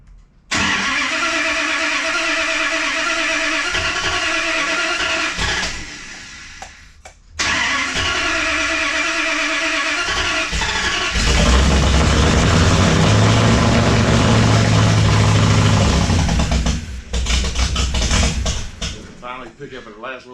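A race truck engine with a distributor set off and running on older gas cranks and catches, cuts out, restarts, then settles into a loud rough running roar that rises in the middle before easing, close by, with people talking.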